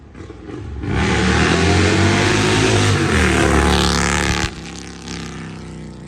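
Harley-Davidson Road Glide Twin Cam with an unbaffled, dyno-tuned ThunderHeader exhaust roars loudly as it accelerates away, the rumble climbing through the gears for several seconds before backing off abruptly, then idling lower near the end.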